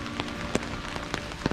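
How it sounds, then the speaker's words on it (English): Rain falling steadily in a cemetery in Lexington, Kentucky, making an even wash of soft patter with a few sharper drops close by, and no voices. "Yeah, it's raining."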